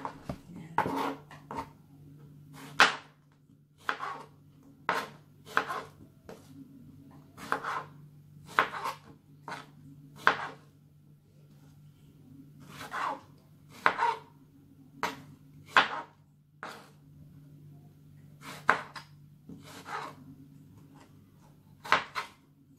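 A knife chops strawberries on a cutting board for a milkshake, giving sharp, evenly spaced taps, some in quick pairs, close and clear over a low steady hum.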